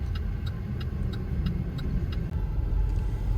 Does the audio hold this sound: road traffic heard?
yes